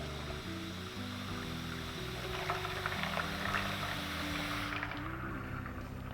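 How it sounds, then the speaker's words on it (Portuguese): Pressure cooker cooled under cold water, with the pressure venting as a steady loud rushing hiss of steam and water that drops away near the end. "Fez um barulhinho, parecendo que é uma descompressurização da panela."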